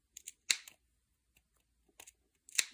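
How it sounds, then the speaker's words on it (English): Pinking shears cut small notches into a fabric seam allowance along a curved seam, giving a few short, close, crisp snips in two quick clusters separated by near silence, with no talk. "if you have a pair of pinking shears, you can go around there too"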